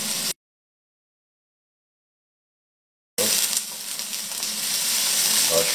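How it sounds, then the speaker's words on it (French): Diced raw potatoes sizzling in a pan over a low flame, a steady hiss with faint crackles that starts after a stretch of complete silence and gradually grows slightly louder. "On va déposer nos pommes de terre en cubes, crues. Voilà, on va gentiment les faire cuire"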